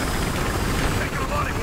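A helicopter in the Battlefield Hardline video game gives off a loud, steady rotor roar throughout a short moment of gameplay, mixed with other game noise.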